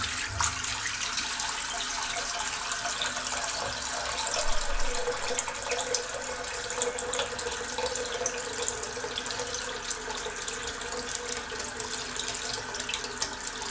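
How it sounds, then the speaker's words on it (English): Tap water runs steadily into a bathroom sink as it is rinsed out after a shave, a continuous soft splashing rush at close range with no voices. "just rinsing the sink out."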